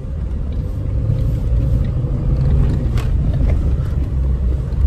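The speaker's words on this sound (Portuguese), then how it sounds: "Deixa eu colocar uma primeira marcha aqui." A 2014 Fiat Palio Attractive car engine idles as the driver shifts into first gear: a steady, low, close rumble that continues evenly throughout, with no talking.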